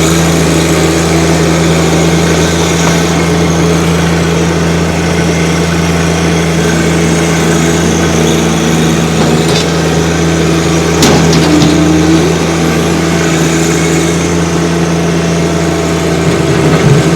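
A 2022 John Deere 1025R sub-compact tractor with loader and belly mower idles steadily at close range, a constant low engine hum with no change in pitch, alone and without talk.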